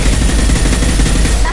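Rapid video-game gunfire in Mass Effect 2, a dense, loud, continuous burst of automatic weapon fire filling the moment, with no pauses in the rattle.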